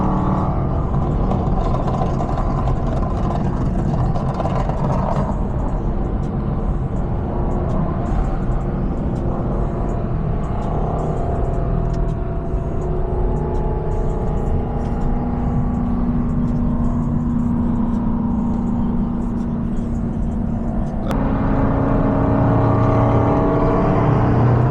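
A car engine runs loud and steady at a car show, with a continuous low rumble and droning tones that shift in pitch as it revs, the noise filling the whole stretch with no clear pauses.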